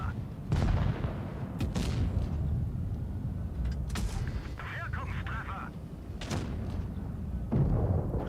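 Tank cannons fire in the mobile game World of Tanks Blitz, with heavy booming shots and thuds over a dense, rumbling battle bed that runs throughout at a loud, close level.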